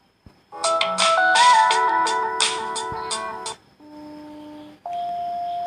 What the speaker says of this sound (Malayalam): അടുത്ത ഫോണിൻ്റെ സ്പീക്കർ ഭാഗമാട്ടോ നമുക്കൊന്ന് ചെക്ക് ചെയ്ത് നോക്കാം